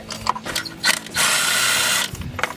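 Ratchet with a 5/16 socket breaking tight spark plugs loose on a Mercury Cougar: a few close ratchet clicks, then one long steady ratcheting sweep, then more short clicks.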